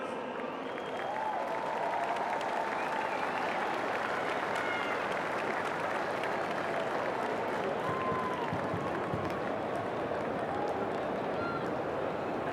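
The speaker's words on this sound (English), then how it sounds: "Big round of applause." A crowd at a WAFL Grand Final post-game presentation in Western Australia keeps up a faint, distant applause, a steady wash of clapping and crowd noise that carries on without breaks.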